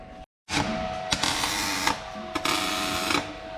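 A grinder doing light, fine grinding: a steady high buzzing whir that starts after a short silence and runs continuously, with a few brief surges as the tool bites.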